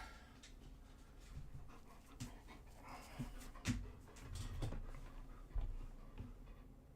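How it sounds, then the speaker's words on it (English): A dog pants rhythmically and close by, quick breathy puffs with a few louder bursts and faint ticking clicks in the background. "And a dog."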